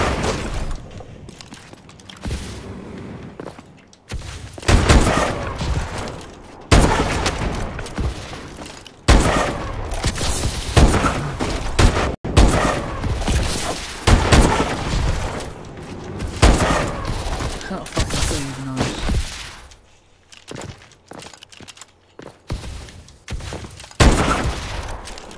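Dense gunfire from the shooter game Call of Duty: Advanced Warfare, with bursts of rapid shots and booms in loud clusters separated by short quieter gaps.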